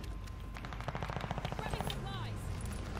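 Rapid gunfire bursts in a Call of Duty: Vanguard team deathmatch, a quick string of sharp shots over game ambience, with a player's voice reacting briefly around them.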